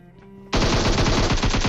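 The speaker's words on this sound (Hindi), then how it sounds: "अब चारों तरफ आप गोलियों की आवाज़ सुन सकते हो" Sustained automatic gunfire in a battle royale shooter game erupts suddenly after a quiet moment, a loud rapid burst of closely spaced shots continuing without pause.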